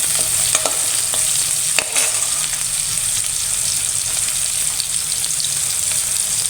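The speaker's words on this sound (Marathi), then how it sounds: "थोडं मीठ टाकायचं, टोमॅटो पटकन विरघळतो" Chopped tomatoes with a little salt fry in hot oil for methi dal tadka, giving a steady close sizzle with occasional clinks and scrapes of a spoon stirring the pan.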